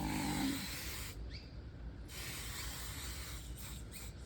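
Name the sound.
basting spray being sprayed on fabric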